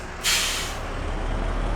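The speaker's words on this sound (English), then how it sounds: "It's a shame the bus drives off without us." A bus in Airport Manager Simulator releases its air brakes with a sharp, loud hiss that fades over about half a second, followed by a steady low engine rumble as it drives off.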